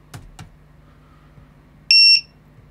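A short, bright electronic beep from a Flywoo Explorer LR HD v2 drone sounds once, sharp and clear after a couple of soft thumps, then quiet returns.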